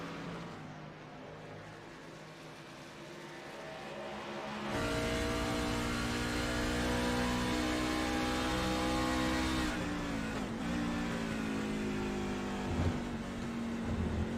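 Race cars accelerate through the S's at Watkins Glen road course, a sustained engine drone that jumps to a louder, harmonically rich roar and holds steady with a couple of brief dips like gear shifts.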